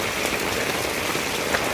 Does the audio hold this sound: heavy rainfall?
yes